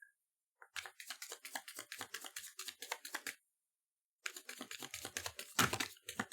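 Rapid, crisp riffling bursts of tarot cards being shuffled, close and fairly loud, in two runs separated by a brief pause.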